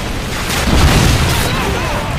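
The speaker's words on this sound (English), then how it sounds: "Friendly Predator missile incoming." Predator missile strike detonating in Modern Warfare 2 on the Favela map, a loud sustained low rumbling boom lasting about two seconds with a dense crackling blast tail.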